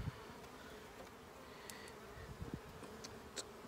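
Honey bees buzz softly around an open poly hive during an inspection, a faint steady hum with a few insects passing close to the microphone, no talk.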